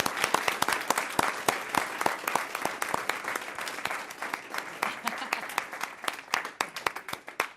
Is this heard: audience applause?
yes